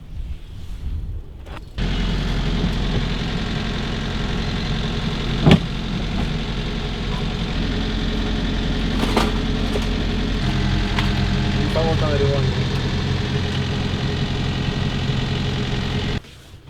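A boat engine runs steadily and loudly, a constant droning hum with a few brief knocks and clatters, out on the water on a fishing trip with no talk.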